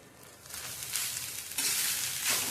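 Grated fresh coconut and poppy seeds dry-roasting in a pan over low heat, a soft sizzling crackle rising in gentle surges as the mixture is stirred, close and quiet with no talk.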